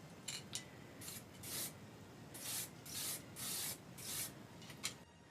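Short hissing bursts of a gray spray paint can on a Halloween prop staff, about eight quick sprays in an uneven rhythm, close and fairly quiet with no talking.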